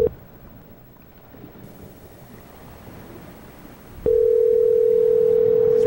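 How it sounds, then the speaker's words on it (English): A steady electronic telephone tone starts abruptly after a few seconds of quiet hiss and continues unbroken. "Ringing forever."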